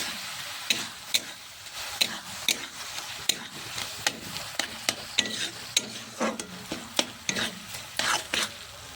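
A spoon stirs a chhana mixture with milk powder in a pan, making rhythmic scraping strokes roughly every half second over a soft, continuous sizzle close by.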